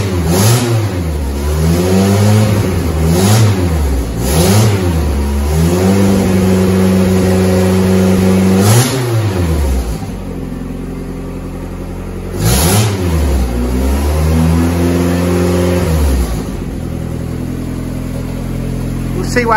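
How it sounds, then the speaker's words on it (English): A 1988 Volkswagen Polo MK2 breadvan engine is revved repeatedly, climbing and falling in several loud rising sweeps before settling to idle. A voice speaks faintly beneath the engine. "Might have to give it a rev to clear it."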